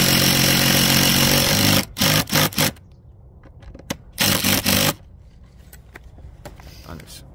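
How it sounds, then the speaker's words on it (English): A power tool drives two screws to fix a solar panel roof hook onto the rafters of a plain or rosemary tiled roof. A long loud whirring run is followed by short, sharp bursts separated by quiet gaps. "And we always use two screws. That gives it a really firm fixing onto the rafters."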